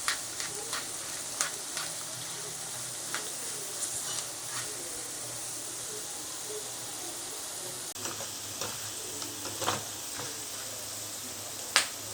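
Corn kernels deep frying in oil for crispy corn give a quiet, continuous sizzle dotted with scattered sharp pops and crackles.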